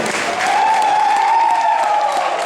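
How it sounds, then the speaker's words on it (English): A short burst of audience applause at a convention bartending contest, steady clapping from a crowd filling the room, with a faint tone running underneath. "A big round of applause for the Iron Bartender, Dan."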